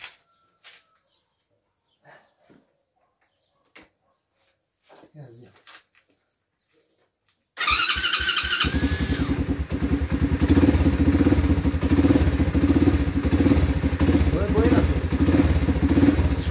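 A 125cc ATV fitted with a carbon sport exhaust sits quiet with a few faint voices and knocks, then fires up abruptly with a loud burst and settles into a rough, booming idle close by.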